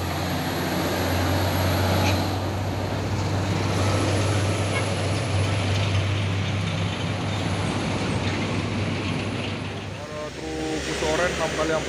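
A heavy Siba Surya trailer truck rumbles past close by on an uphill road in Indonesia, a loud steady roar of engine and road noise with voices faintly underneath.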